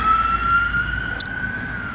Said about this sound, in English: Oh, here's another ambulance.